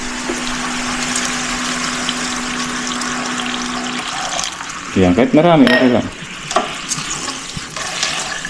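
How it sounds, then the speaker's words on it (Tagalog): Water runs and splashes into a cooking pot, a noisy rushing stream for several seconds that stops, followed by clanks and handling sounds as people speak. "Lagyan natin ng tubig."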